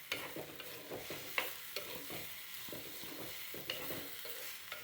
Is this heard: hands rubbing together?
no